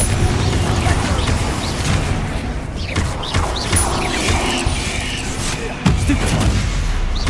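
Confringo blasting curses in Hogwarts Legacy give off a run of sharp, crackling bursts and booms, several in quick succession amid mechanical clatter and creaks, with a heavier blast near the end.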